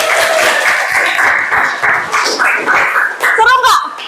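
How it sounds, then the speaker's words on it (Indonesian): A room of participants claps after an icebreaker game at a group session, steady dense clapping mixed with children's and adults' chatter and voices throughout, fairly loud and close. "Oke, tepuk tangan."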